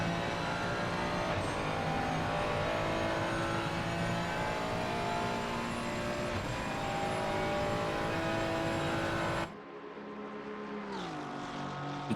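Racing cars on the Monza circuit in a console endurance race, among them an Aston Martin and a Porsche, give a steady, loud, high engine drone that drops suddenly near the end and then rises again.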